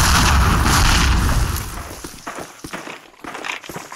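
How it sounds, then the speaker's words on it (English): Multiple grenades blast in a World War II multiplayer shooter on maps such as Carentan, opening with a loud, rumbling detonation that fades into smaller pops and scattered footstep-like thuds. "Nades, a lot of nades."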